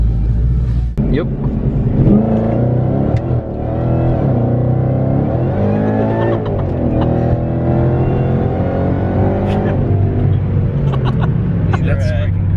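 A turbocharged truck engine revs and accelerates hard in a loud, steady roar that holds throughout, with rising whines, and voices talk over it.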